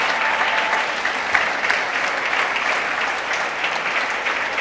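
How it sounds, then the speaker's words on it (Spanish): Loud, sustained congregation applause in a church during a sermon, dense clapping from many people that runs unbroken and close. "Denle un aplauso al Señor."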